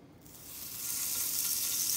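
Bluegill fish pieces hit hot oil in a pan, and a bright, steady sizzle swells quickly and holds loud and close with no voices.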